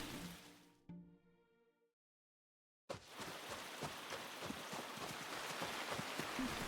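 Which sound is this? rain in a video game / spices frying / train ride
rain in a video game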